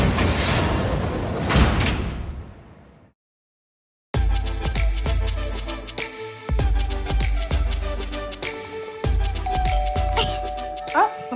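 A household doorbell chimes with ringing tones near the end, heard amid ongoing talk and room noise after a brief silent gap.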